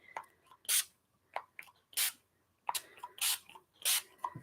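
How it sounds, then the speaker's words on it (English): An orange spray mist bottle hisses in short bursts, several sharp sprays spaced a second or so apart, close and crisp, with faint clicks of the pump between them. "it all depends on if the sprayer is going to decide to work today"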